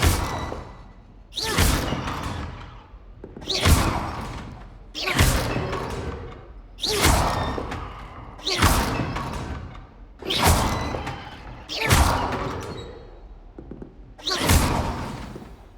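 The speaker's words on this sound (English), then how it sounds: "This time, cast Levioso first, then the basic cast." Repeated spell casts strike home in Hogwarts Legacy during dueling practice: about nine evenly spaced whooshing impacts, each a sharp thud trailing off, loud and close, with no talk over them.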